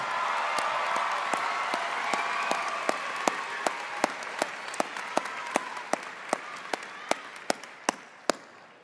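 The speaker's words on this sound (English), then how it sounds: "loud round of applause." An audience at a high school graduation ceremony applauds the class valedictorians, a sustained wash of clapping with some cheering, while a run of sharp, louder claps or taps punctuates it near and regularly toward the end.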